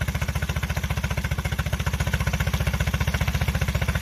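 A 2021 Honda outboard motor runs at a steady idle, a close, even, rapid pulsing putter that holds constant throughout with no talk.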